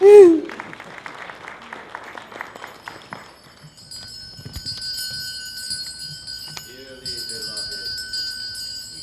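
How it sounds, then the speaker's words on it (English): Bells peal in a quick, steady series of strikes, then give way to clapping and a lively crowd murmur with a few high tones. "Wedding bells."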